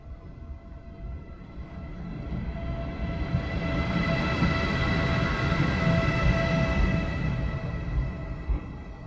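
A Wascosa freight train rumbles and grinds as it slowly pulls out behind tank wagons, swelling in loudness with steady low roar and faint metallic whining tones.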